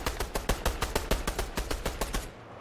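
Rapid gunfire from the video game Fortnite, a steady burst of about a dozen sharp shots at an even rhythm for over two seconds, close and loud, then cutting off into quiet.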